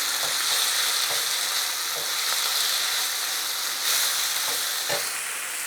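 Squeezed garlic fries in a pan of bolognese base while a utensil stirs it, giving a constant near sizzle broken by regular soft scraping strokes.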